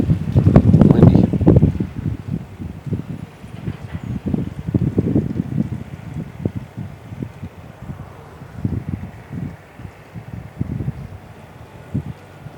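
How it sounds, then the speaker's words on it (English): Gusty wind buffets the microphone outdoors at a beehive, rumbling in uneven surges that are loudest at the start, then ease and return. "Windy."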